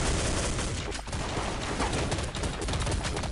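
Rapid gunfire rattles on and on in the video game Counter-Strike Online, with shots coming from outside. It is a loud, dense stream of overlapping shots and automatic bursts with only a brief dip.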